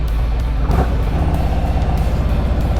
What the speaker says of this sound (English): Looks like a Ferrari or a Lamborghini getting pulled off that truck over there.